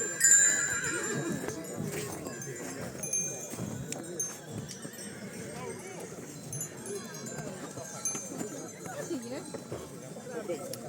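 Horses at a mountain-village horse show, with neighing and clopping hooves mixed into a busy outdoor scene while people talk nearby.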